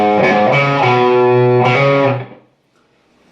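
Distorted electric guitar playing the second half of a song's lead rhythm, loud chugging chords with a few accented changes and no voice, the last chord ringing out and fading into silence.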